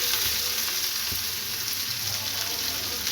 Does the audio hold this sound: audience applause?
no